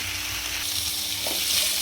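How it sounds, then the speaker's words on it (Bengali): Potatoes fry in hot oil, a dense continuous close-up sizzle with a brief stir partway through. "এখন আমি আলুটাকে ভেজে নেব"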